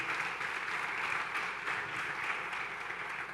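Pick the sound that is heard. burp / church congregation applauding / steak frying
church congregation applauding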